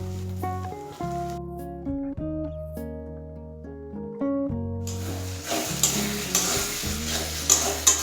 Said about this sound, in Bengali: এবার একটু ভালো করে নাড়িয়ে দিতে হবে, তা না হলে নিচে লেগে যাওয়ার সম্ভাবনা থাকবে